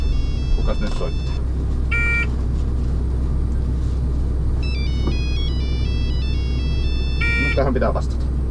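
A mobile phone ringtone chirps in short melodic bursts inside the cab of an Eco Log forest harvester, ringing several times over a constant low engine rumble while someone speaks nearby.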